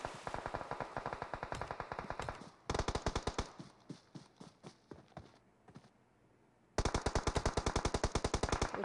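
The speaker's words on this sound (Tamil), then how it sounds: "அவங்க வந்து ஃபயர் பண்ணுறது அப்படியே நம்மளுக்கு நல்லா தெரியுது" Automatic weapon fire in the mobile shooter PUBG Mobile: rapid close bursts of rattling gunshots, a short quieter stretch of spaced single shots, then another long loud burst, no talk.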